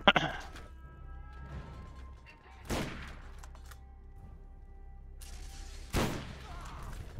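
Three sharp sniper rifle shots crack out in Borderlands, in the General Knoxx armory area, spaced a few seconds apart, each a loud, close blast with a short ringing tail over quiet game ambience.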